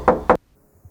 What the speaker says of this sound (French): Jusqu'au jour où le destin vint frapper à la porte.